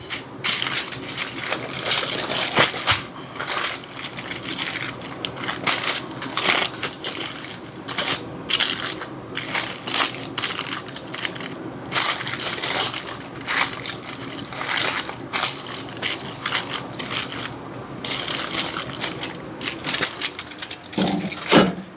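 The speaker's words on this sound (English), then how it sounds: "Make sure you use some heavy-duty foil, guys." Heavy-duty aluminium foil crinkles and crunches in dense, irregular bursts while smoked peach bourbon ribs are wrapped, close and loud, continuing without pause and with no talking.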